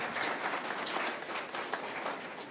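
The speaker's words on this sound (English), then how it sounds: "we can give a round of applause for that" An audience at a League of Women Voters forum for state representative candidates applauds, a steady wash of many hands clapping at moderate volume, unbroken for a couple of seconds.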